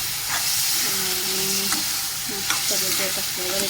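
Red masala sautéing in oil in a pan, a loud continuous sizzle and hiss with stirring scrapes, with a few faint tonal sounds in the background.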